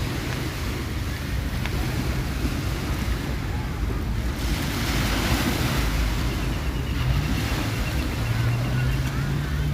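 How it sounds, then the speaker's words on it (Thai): Strong sea breeze buffeting the microphone over the steady wash of surf at Bang Saen Beach, Thailand, with a faint boat engine drone in the distance. "บรรยากาศชิลๆนะครับ กับลมทะเลเย็นๆนะครับ"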